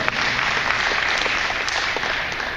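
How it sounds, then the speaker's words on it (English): A group at a tennis coaching conference applauds a defensive drill on court, giving a steady, moderately loud round of clapping that holds evenly for a couple of seconds with no talk over it. "Round of applause."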